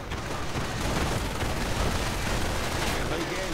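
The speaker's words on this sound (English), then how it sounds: "Now these stormtroopers with Panzerschrecks are moving ahead. Panzerschreck firing away this building" Rocket launchers and rifle fire from German stormtroopers in a WWII strategy video game, a dense continuous barrage of shots and blasts filling the scene with no gaps, loud throughout.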